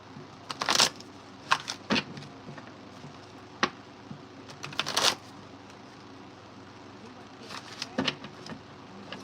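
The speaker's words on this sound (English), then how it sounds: "I gotta shuffle that a couple more times." Tarot cards being shuffled by hand, heard as several short, crisp riffling bursts spaced irregularly, close and moderately loud over a quiet room.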